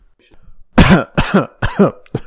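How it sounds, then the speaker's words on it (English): A series of three or four rough, voiced throat-clearing bursts in quick succession, close and fairly loud after a quiet start. "Sorry, I had to clear my throat there."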